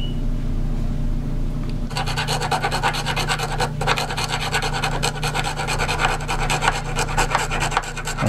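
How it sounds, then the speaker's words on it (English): A file rocks back and forth to round a chamfer where a tone hole meets the bore of a wooden flute, making a continuous close, dense rasping scrape that starts after a short quiet moment and carries on steadily. "I've chamfered it, and now I'm rounding it. That's why I'm rocking the file like this"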